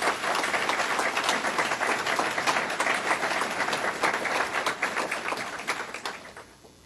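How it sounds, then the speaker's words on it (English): An audience at a state budget event with the governor of New York gives steady applause, dense clapping at a moderate distance that holds for several seconds and then fades out. "they deserve a round of applause"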